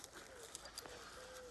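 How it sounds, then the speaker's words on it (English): Pigeons cooing faintly in the background of an outdoor scene in Oslo, Norway, a few soft low calls against steady ambient noise. "hear the pigeons"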